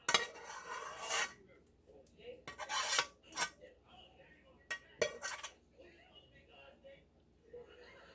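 A big spoon scrapes homemade chocolate pie filling out of a pot in several rasping, clinking bursts of metal on cookware, with quieter gaps between the strokes.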